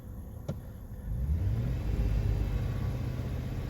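A 2005 Chevy Silverado with the 5.3L V8 idles with a steady low rumble after a brief click, heard from close by and without any talk.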